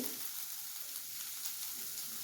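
Sprouted mung beans with a little turmeric roasting in a pan, giving a faint, even hiss of sizzling with no voices.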